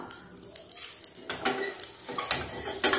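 Coriander, pepper and cumin being sautéed in a pan for a home-style fish curry, with repeated clinks and scrapes of a metal spoon stirring against the pan, close and fairly loud, with a faint sizzle beneath.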